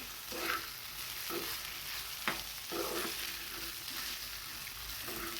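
Rice for curd pulao is sautéed in a pan with a steady close sizzle of frying, punctuated every second or so by soft scraping stirs of the spoon; nobody speaks.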